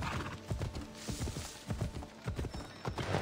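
Horse hooves clip-clop in a steady galloping rhythm in the video game Assassin's Creed Odyssey, close and clear over a continuous background bed of game ambience.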